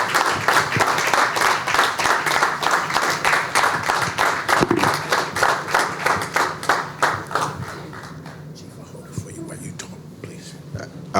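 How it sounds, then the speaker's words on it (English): Applause fills a Portsmouth, Virginia city council meeting, with many hands clapping steadily for several seconds and then thinning out to a few scattered claps. "thanks everybody for the applause"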